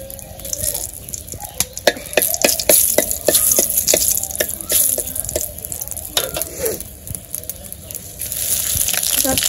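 Dried red chilies and bay leaf spit and crackle in hot oil in a home kitchen pan for a vegetarian curry, a dense, loud sizzle peppered with sharp pops and stirring clatter throughout.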